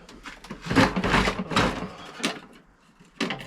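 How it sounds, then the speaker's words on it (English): Someone rummages through a workshop drawer during a hydraulic press build, with loud, dense clattering and knocking of items shifting around, several bursts close by, then a pause and a final clunk. "it's me digging in a drawer"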